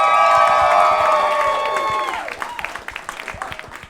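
A live audience at a comedy podcast taping claps and cheers, with scattered whoops over a bright sustained tone that slides down and fades within two seconds, leaving sparse, uneven claps dying away.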